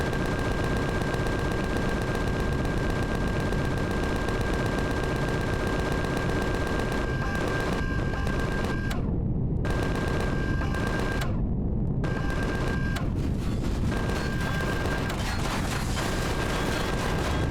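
Gatling guns in Empyrion Galactic Survival fire in rapid, dense sustained bursts, loud and continuous with a few brief pauses, under a steady tonal hum.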